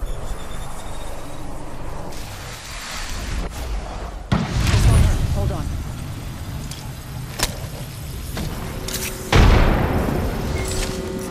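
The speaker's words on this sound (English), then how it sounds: "Look out, grenade." A grenade goes off in the Apex Legends battle royale game with a loud, deep blast near the start of the second half. A second heavy boom follows near the end, over ongoing game noise.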